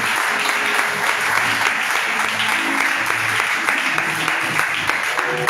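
A church congregation claps together at length in steady, dense applause that fills the room, loud and continuous without break.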